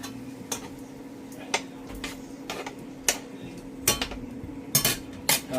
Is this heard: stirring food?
yes